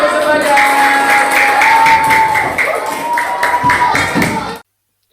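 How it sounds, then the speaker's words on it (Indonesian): Applause from a classroom group, steady clapping with some crowd noise and a sustained tonal hum underneath, fairly loud and close, cutting off abruptly before the end. "Tepuk tangan untuk semuanya."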